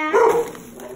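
A single short, close dog bark with a whining, yelping edge that quickly fades into quiet background hiss.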